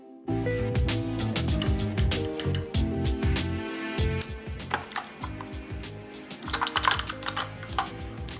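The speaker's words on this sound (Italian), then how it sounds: "E adesso montiamo i keycaps." Keycaps being pressed onto an inexpensive computer keyboard: a dense, close run of sharp plastic clicks and clacks in quick irregular bursts, growing busier and more scattered toward the end.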